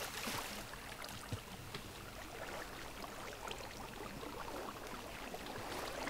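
Continuous rushing water and hull wash of a moving boat in Minecraft, steady and moderately loud throughout, with no voices.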